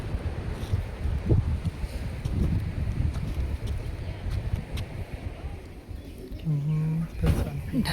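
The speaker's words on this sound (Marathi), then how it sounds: "आता थोडं वारं आहे" Wind gusts roar across a microphone at Broken Beach in Uluwatu, a constant rumbling buffet with voices talking faintly underneath and a brief tonal hum near the end.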